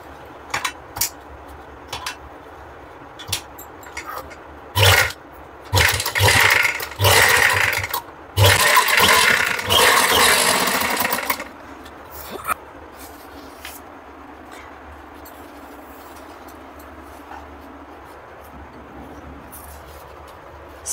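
Domestic sewing machine stitching a 27-inch waistband on ladies' bell-bottom pants, heard in a few short bursts of running, with a longer stretch in the middle and quiet handling between.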